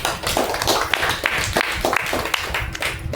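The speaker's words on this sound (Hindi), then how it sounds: "एक जोरदार तालियां होनी चाहिए।" A seminar audience at a business strategy event claps loudly, the individual hand strikes distinct and irregular in a close, lively patter that keeps up an uneven rhythm throughout with no speech over it.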